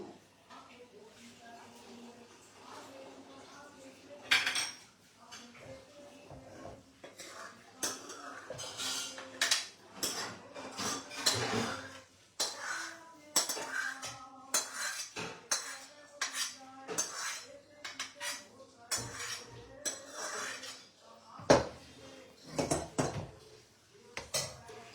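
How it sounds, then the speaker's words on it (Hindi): Prasad poured into a kadhai, with metal utensils and a spoon repeatedly clinking, scraping and knocking against the pan in irregular bursts, close up, alongside intermittent talk. "तो चलिए मैं अपने प्रसाद को इसमें डाल देती हूँ।"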